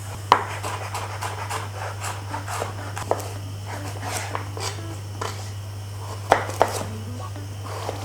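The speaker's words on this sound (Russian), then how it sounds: "нарежьте овощи ножом." Vegetables being cut into cubes with a knife for buckwheat mushroom soup, a scattered series of light blade taps and scrapes on a board, with a few sharper knocks above a steady low hum.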